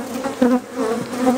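Honey bees buzzing loudly at close range from an open brood chamber of a hive, a steady droning hum that swells and wavers, with no speech.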